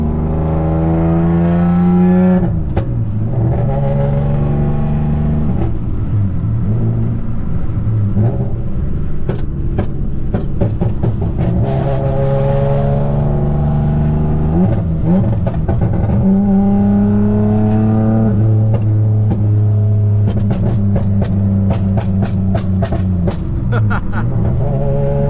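A 6-speed manual-swapped Nissan Maxima revs hard through its gears, the loud engine climbing steadily in pitch and dropping at each shift, with sharp pops and crackles clustering around every gear change, heard close from inside the car.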